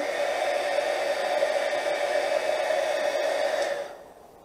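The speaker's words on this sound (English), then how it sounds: "I'm going to heat my puzzle again so we can soften up the embossing powder." A heat tool blows a steady, loud whoosh of hot air to melt embossing powder on a puzzle piece for a craft embellishment, holding constant for nearly four seconds before switching off into near silence.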